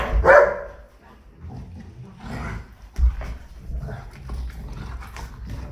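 Two golden retrievers fight in a home, a loud snarling bark up front giving way to lower growls and scuffling that carry on through the rest.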